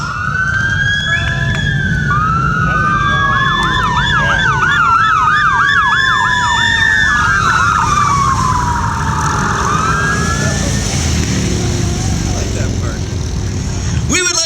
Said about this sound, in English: with lights and sirens we present the Star Flash Parade